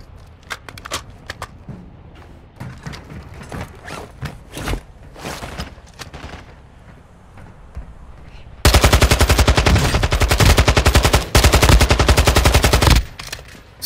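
Gunfire from a weapon emptying its magazine in the video game Call of Duty DMZ. Scattered shots give way to a loud, sustained burst of rapid automatic fire lasting about five seconds.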